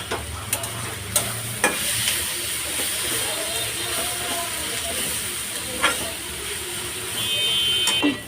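Sliced bitter gourd frying in a pan with onion, chili, salt and a little turmeric, sizzling steadily with a few sharp clicks from stirring.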